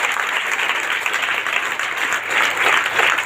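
Church congregation applauding at a Sunday prayer service, a dense, steady wash of clapping from many hands that swells slightly toward the end, with no speech over it.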